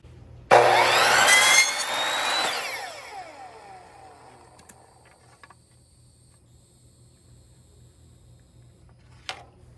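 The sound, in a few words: cutting wooden stair nosing strips with a power saw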